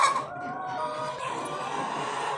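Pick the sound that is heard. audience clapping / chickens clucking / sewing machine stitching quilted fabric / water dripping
chickens clucking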